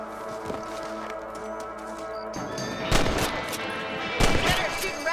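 Rifle fire in Red Dead Redemption on PS5: a tonal musical backdrop with a faint early shot, then two loud, sharp gunshot cracks a little over a second apart, each trailing off.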